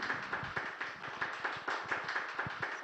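A small audience at a Tamil astrology talk event claps in a quick, fairly regular rhythm, faint and somewhat distant, with no talk over it.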